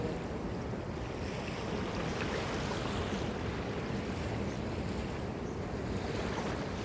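Ocean surf washes steadily at a beach in the morning, a dense continuous rush of waves with wind noise over the microphone and no distinct breaks.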